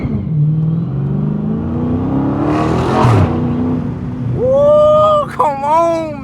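A straight-piped 2020 Dodge Scat Pack exhaust roars nearby, then blips sharply upward on a downshift with a loud rising howl, while excited voices shout over it.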